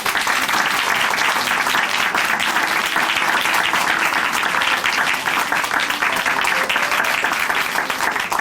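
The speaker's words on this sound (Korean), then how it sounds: "형제님께 다시 한번 응원의 박수 부탁드리겠습니다" Church congregation at Chuncheon Hanmaum Church applauding a testimony speaker, a steady, dense wash of many hands clapping that stays loud and even throughout with no break.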